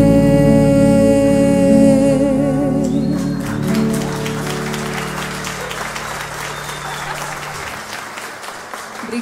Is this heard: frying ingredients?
no